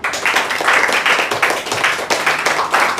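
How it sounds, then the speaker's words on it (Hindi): An audience claps at a motivational speech given by a retired CISF havildar, a steady run of many hands repeating in close, dense bursts for about three seconds, loud and near with no speech over it. "फिर एक बार ताली बजाओ आप लोग"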